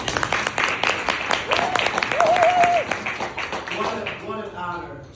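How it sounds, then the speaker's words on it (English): An audience applauds a congressman at a public event, with steady crowd clapping and cheering under a speaker's voice that continues over the noise. "A big round of applause for our second representative."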